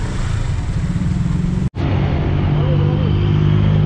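Cars and motorcycles crawl in exit traffic at Manaoag, Pangasinan, making a steady, close engine rumble that cuts out for a moment partway through.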